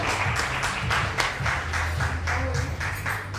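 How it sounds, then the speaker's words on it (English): Close, lively applause for a Miss category contestant at a Face of Allure 2022 pageant introduction round, a thick patter of many hands with slightly pulsing rhythm and loud throughout. "Give it up, everyone. Please, use round of applause."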